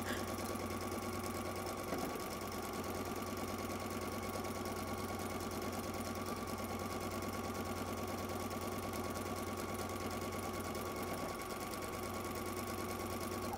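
A sewing machine stitches quilt pieces in a fast, steady mechanical whir with a constant buzzing hum, close by and quiet, running without pause and with no talk.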